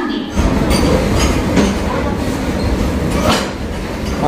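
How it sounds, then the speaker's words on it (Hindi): A coal-laden goods train passes through Jharsuguda railway station, a close, loud rumble with rhythmic wheel clatter and occasional squeals, steady throughout. "एक मालगाड़ी पार हो रहा है यार"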